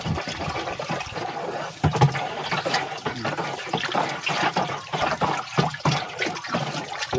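Water is poured into a drum of powdered fertilizer made from cow manure, a steady, fairly quiet splashing and gurgling stream that runs on without a break.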